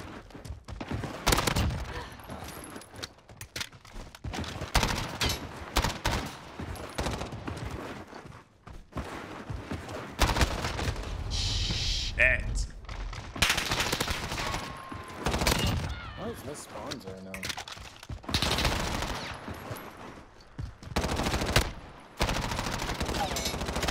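Rapid gunfire from a Rebirth match in a first-person shooter video game, with dense repeated bursts and single shots over about twenty-four seconds, along with footsteps and game effects, while a person talks over it now and then.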